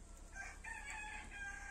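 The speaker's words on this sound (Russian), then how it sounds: "А петухи на все лады." Roosters crow in a village, drawn-out cock-a-doodle-doo calls heard faintly at a distance against low background hum.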